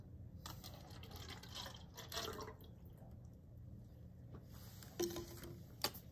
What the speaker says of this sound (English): Let's pour the base into the calorimeter.